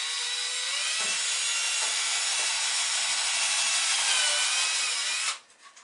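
A hand saw cuts through the wooden deck hatch panel of a toy boat in steady, close back-and-forth strokes, a continuous rasping that stops abruptly near the end.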